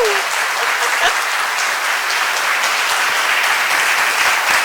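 A convention crowd at a chiropractic association's fall keynote breakfast bursts into steady, dense applause, loud and sustained throughout with no break, as the foundation's president is welcomed to the stage.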